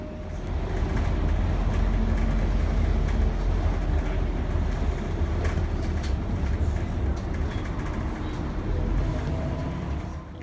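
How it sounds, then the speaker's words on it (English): Steady low rumble and rattle of a moving train bound for Paris, continuous and fairly loud, with clacks and faint background voices. "this is the train on the way to Paris"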